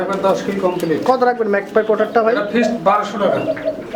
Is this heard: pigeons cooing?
yes